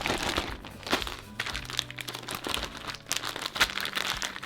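A plastic zip bag holding chicken in lemon marinade crinkles and rustles continuously up close, with irregular crunches and crackles as it is handled and sealed.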